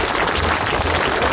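Crowd applause at a sports championship celebration in Grou, a loud dense burst of clapping from many people filling the whole short moment.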